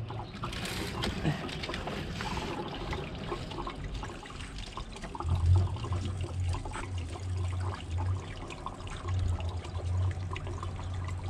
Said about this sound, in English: Let's see what happens to the water flow.